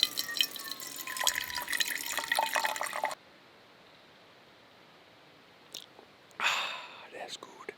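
Water is collected at a campsite: a close splashing, trickling flow for about three seconds, then near silence, then short bursts of rustling and handling.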